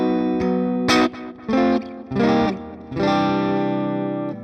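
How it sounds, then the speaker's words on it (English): Heavily distorted electric guitar through a simulated Mesa Boogie amp, playing a few chunky chords and bursts with short gaps, ending on a long sustained chord, close and loud. "Very aggressive distortion"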